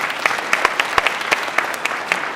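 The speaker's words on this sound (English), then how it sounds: "Let's give her a round of applause." An audience at a student recognition ceremony claps in a brief burst of close, dense applause with sharp individual hand claps.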